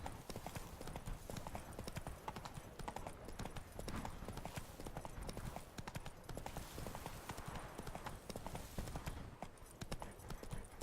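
Steady galloping hoofbeats of a horse ridden along a twisty trail in The Witcher 3 video game, rhythmic and continuous but very quiet.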